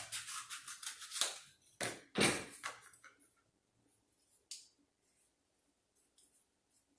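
Scissors snip through craft material being trimmed for a paper pumpkin's stem: several crisp, close cuts in a quick run, then quieter scattered clicks and rustles.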